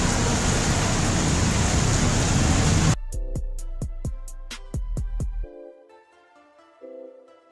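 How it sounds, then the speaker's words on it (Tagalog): Heavy rain pours down in a loud, steady hiss for about three seconds, then stops abruptly and gives way to sparse clicks and quiet tones. "Ang lakas talaga ng ulan."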